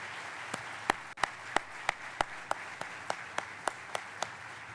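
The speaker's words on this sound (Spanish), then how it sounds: "Quiero pedir un aplauso para darle la bienvenida al profesor Carlos Moreno." Sparse clapping greets a professor at a talk on urban proximity, a faint background wash with a few sharp individual claps standing out in a regular, evenly spaced rhythm.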